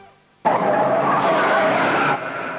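A Toyota Hilux Tiger pickup with four-sensor ABS brakes hard, giving a sudden loud tire squeal and skid that holds steadily for about two seconds and then eases off.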